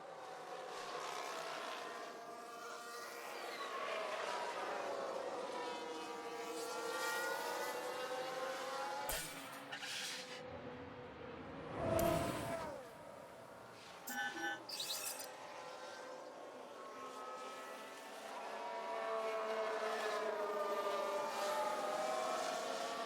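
Formula 1 cars race in the F1 Manager 2022 video game replay, their high engine whines rising and falling in pitch as they pass, with brief loud swooshes midway.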